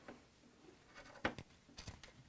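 Old fabric scissors trimming the zipper edge of a glitter vinyl sensory pouch, a few faint close snips and crisp rustles, quiet and sparse with no talking.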